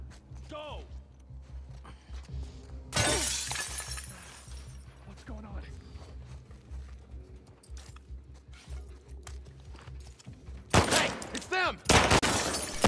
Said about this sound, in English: take the extra couple of seconds to destroy glass panels and windows